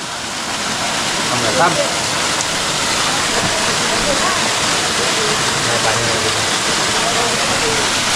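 A waterfall pours in a dry-season jungle setting, a steady loud broadband rush of splashing water filling the whole stretch, with voices faintly mixed in.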